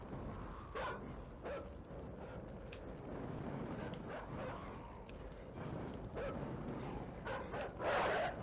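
Dogs bark in the side-scrolling game Inside amid a steady windy, rushing game ambience, with several short barks scattered throughout and a louder burst near the end.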